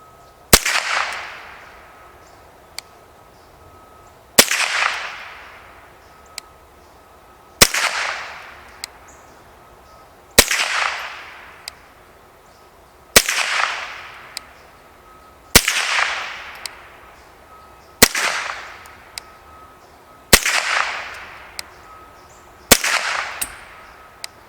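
Winchester Wildcat .22 rifle fed from a Ruger BX25 magazine, fired in nine evenly spaced sharp cracks about every 2.5 seconds, each shot loud and close with a short decaying tail.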